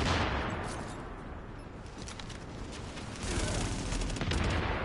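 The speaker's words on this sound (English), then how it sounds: "I'm just throwing grenades at this guy." Gunfire and grenade blasts in the video game The Division: a dense, rattling stream of shots over a rough, booming wash, fairly quiet overall and swelling louder near the end, with no talk.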